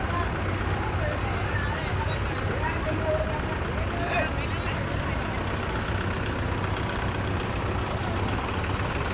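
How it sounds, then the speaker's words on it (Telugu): Tractors and bullock carts set off together in a village Sankranti procession, heard as a steady low engine rumble and broad crowd noise with voices mixed in throughout. "ఎడ్ల బండ్లు మధ్యలో ట్రాక్టర్లు ఇవన్నీ కూడా బయలుదేరుతున్నాయి"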